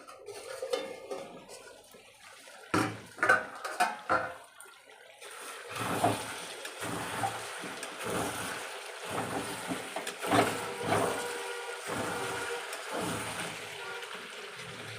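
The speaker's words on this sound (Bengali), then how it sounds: "ঢাকনা তুলে একটু নাড়া দিয়ে নিলাম।" A metal lid clatters off a pot and a spoon scrapes and stirs chicken cooking in a home kitchen, with sharp clinks early on, then steady stirring and bubbling noise.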